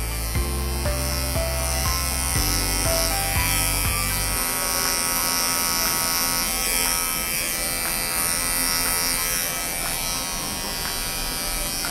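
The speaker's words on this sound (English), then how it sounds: "Just coming straight down with the corner of our clipper" Electric dog clippers buzz steadily and loudly, close up, while trimming a poodle's face, with a pulsing rhythm in the first few seconds before settling into a continuous drone.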